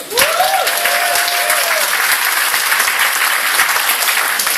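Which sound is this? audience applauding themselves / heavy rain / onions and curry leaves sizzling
audience applauding themselves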